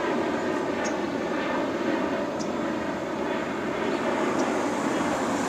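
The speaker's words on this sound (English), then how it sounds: "I want you to hear that plane activity." An airplane passes overhead in Ontario, a steady, broad engine roar that holds at an even level throughout, heard at a distance with no talk.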